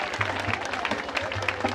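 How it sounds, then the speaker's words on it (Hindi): An audience at a theatre festival honoring ceremony keeps up a steady patter of clapping, with a low voice murmuring underneath. "भाई पीछे भाई तालियां बजती रहनी चाहिए"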